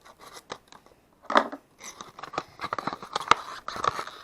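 Scissors snip and crunch through plastic packaging of a Dollar Tree product, a series of close, irregular cuts with brief pauses, the loudest snips sharp and crisp.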